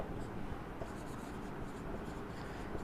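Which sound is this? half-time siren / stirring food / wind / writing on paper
writing on paper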